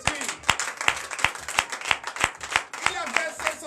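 At a Sunday worship service in Benin, the congregation claps in a steady, regular rhythm, sharp distinct beats roughly twice per second, with voices singing or calling out over the clapping.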